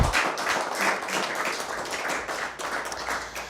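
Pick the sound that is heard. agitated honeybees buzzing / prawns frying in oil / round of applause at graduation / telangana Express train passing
round of applause at graduation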